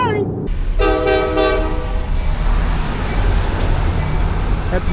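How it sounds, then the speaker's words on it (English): A small passenger train comes through the town of Bertram by the depot, its horn sounding a loud repeated toot near the start, then a steady rumbling roll of cars passing close by. "Happened to find this little passenger train right here coming through town."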